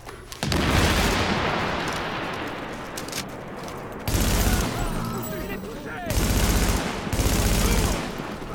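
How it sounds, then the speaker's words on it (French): Gunfire and blasts roar in a The Division shooter game, with a grenade thrown mid-fight: loud bursts of shooting and booming explosions surge in waves over several seconds. "on lance la petite grenade tant qu'à faire"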